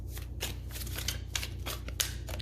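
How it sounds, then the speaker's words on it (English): Tarot cards are shuffled over and over in a steady riffle-and-slap rhythm, close and fairly quiet over a low steady hum, with a few sharper snaps standing out. "one last shuffle"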